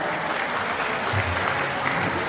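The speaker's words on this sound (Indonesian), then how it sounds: "Tepuk tangan ya." An audience at a golf club tournament ceremony applauds, a dense, sustained wash of clapping heard close and fairly loud throughout, with faint crowd murmur beneath.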